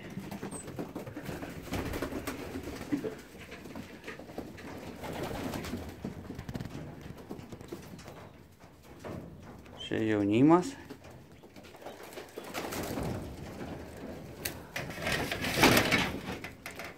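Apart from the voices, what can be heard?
racing pigeons cooing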